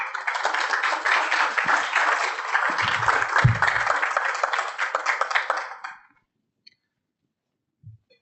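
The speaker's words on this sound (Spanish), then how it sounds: "Les pido por favor un aplauso para el arquitecto Pichotto." An audience applauds an architect at a keynote lecture, a steady dense patter of many hands clapping for about six seconds before stopping abruptly, followed by near silence with a couple of faint knocks.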